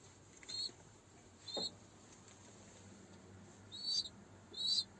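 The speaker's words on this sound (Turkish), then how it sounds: "Bakın şu aşağıda öten yavru da dışarıdaki kuşumuzun yavrusu." A young pigeon squab calls from inside a loft, giving four short, thin, high squeaks spaced across the stretch, fairly faint over a low steady background hum.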